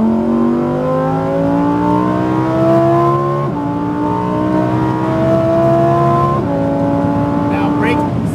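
Supercar accelerating hard on a track, engine pitch climbing steadily through three gears with brief dips at each shift, loud and close from inside the car, no talking.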